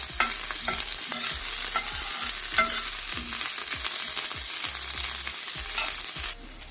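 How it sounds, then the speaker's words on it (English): Onion and thyme frying in a pan for Jamaican-style fried banga mary fish, a steady close sizzle broken by a regular run of spoon scrapes and taps, with no talking. "Let them fry for a while."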